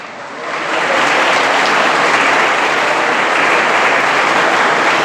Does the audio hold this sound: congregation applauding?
yes